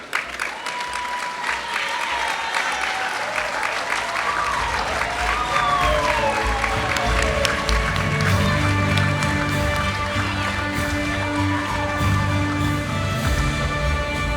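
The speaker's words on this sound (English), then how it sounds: "I would ask them to all stand now and be recognized with a round of applause." Sustained applause from a large audience at a student athletics awards event honoring student athletes, dense steady clapping that fills the whole stretch, with some voices mixed in.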